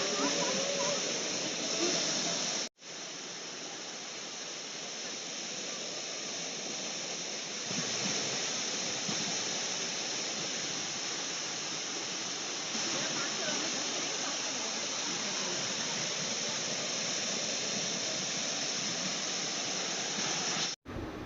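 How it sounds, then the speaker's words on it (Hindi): A fast-falling waterfall near Manali roars as a loud, steady wash of broadband noise, broken only by a brief cut near the start and a short dropout at the end. "ये बहुत ही ज़्यादा ब्यूटीफुल सा वाटरफॉल। तो इसको देखने में ना बहुत ही ज़्यादा अच्छा लग रहा था और ये बहुत मतलब तेज़ी से पानी गिर रहा था।"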